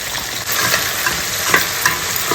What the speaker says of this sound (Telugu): తర్వాత కాజు కూడా వేసేస్తున్నాను ఫ్రై అవ్వాలి